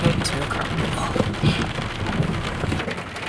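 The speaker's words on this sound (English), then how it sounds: "It stormed the rest of the night" Thunderstorm rain pelts a van's roof in a dense, loud, continuous patter, with heavier drumming bursts rising and falling throughout.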